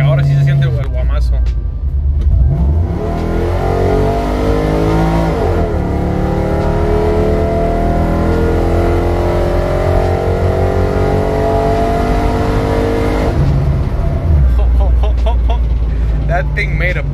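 A cammed 5.3L truck engine revs up and holds high rpm in a long rising pull, loud and close, then settles back toward idle, with a voice talking over the engine at times.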